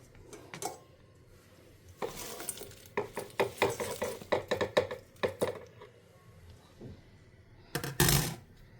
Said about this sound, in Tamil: அதுக்குள்ளே நம்ம இதை என்ன பண்ணிடலாம், இந்த சாமானோட இந்த வெண்டைக்காயை கலந்துக்கலாம்.